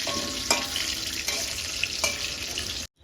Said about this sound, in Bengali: আলুতে একটু লবণ দেবো আলুটা তাড়াতাড়ি নরম হয়ে যাবে আলুটা আমি ভালো করে ভেজে নিই